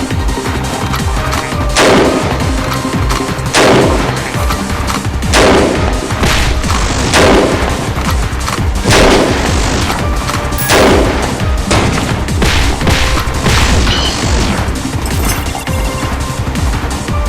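Gunfire rings out in repeated sharp, loud bursts every couple of seconds amid a booming, crashing action soundtrack, close and forceful with no talk.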